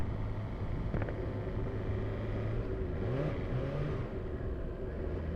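A motorbike engine revving on the throttle on the road, a steady close rumble with a couple of rising and falling rev sweeps midway.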